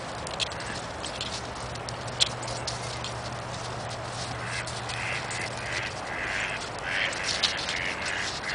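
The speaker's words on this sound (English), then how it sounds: "Look at all the ducks." Ducks on the water quack intermittently over a steady snowy outdoor background, with soft splashy patter; calls are moderate and not very close.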